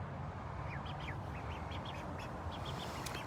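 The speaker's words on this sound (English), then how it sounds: "here's the ducks for you guys" Several ducks quack in short calls over steady broadband background noise, kept in an outdoor rehab enclosure with a heat lamp.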